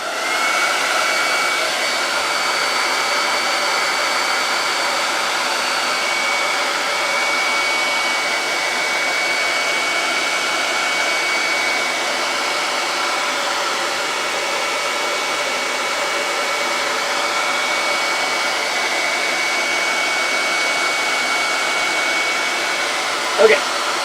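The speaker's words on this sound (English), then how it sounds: "So I'm going to dry it with the hairdryer." A hair dryer blows continuously at close range, a steady loud whooshing roar with a faint whine, ending with a brief click.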